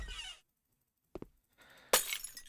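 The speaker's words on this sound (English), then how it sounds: "I just heard a shattering noise" Glass shatters in a dark video game level after a blown fuse: a short crack, then a louder bright smash that sprays into tinkling debris over faint background rumble, with no one talking.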